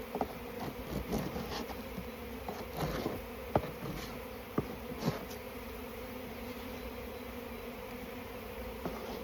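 Honeybees buzzing around an open hive during a hive change, a steady close drone of many wings with individual bees zipping past and faint knocks and handling sounds scattered throughout.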